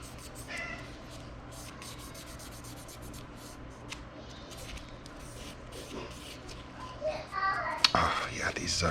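A house cat meows intermittently close by while someone cleans a Walther P38 pistol after shooting, with soft rubbing and handling noises and a louder clatter near the end.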